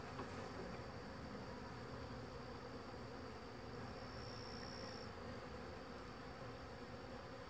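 Agitated honeybees swarming around an opened hive during a weight check and sugar shake, a dense, continuous, faint buzzing drone with no pauses.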